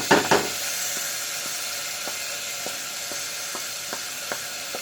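Steady close sizzle of ginger, garlic, red chilli and salt frying with browned onions in a pan, a constant hiss with a couple of loud bursts at the start and faint regular taps of stirring.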